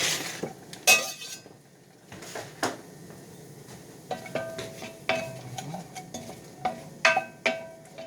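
Spoon scraping and clinking against a hot Dutch oven while green pepper is stirred, irregular metallic knocks and scrapes spaced through quiet gaps, close and fairly crisp, with no voices.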